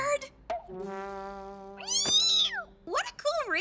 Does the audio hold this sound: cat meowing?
yes